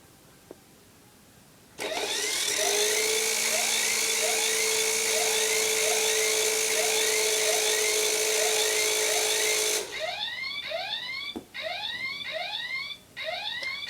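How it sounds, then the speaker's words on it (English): A helicopter alarm clock goes off suddenly with a loud, steady whirring drone and rising electronic chirps, then cuts to repeated sweeping beeps with brief gaps, close and continuous with no talking. "This is the coolest alarm clock you'll ever see."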